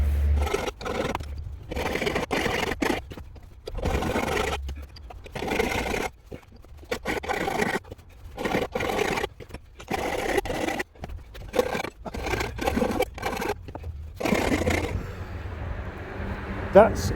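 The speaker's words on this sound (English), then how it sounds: "I am now going to do a spot of welding on the gate." Someone welds on a metal gate in short, separate bursts of harsh crackling hiss broken by brief silences, close and fairly loud, ending in quieter background noise.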